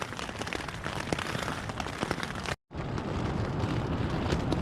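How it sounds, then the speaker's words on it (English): Heavy rain and strong winds pound a tent in the woods during a winter storm, making a dense, constant patter and hiss close by, broken only by a brief silent gap partway through. "There's still strong winds and heavy rain."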